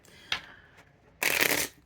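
A deck of cards is shuffled close by: a quick riffle snap, a brief tap, then a longer, louder burst of cards riffling together before going quiet.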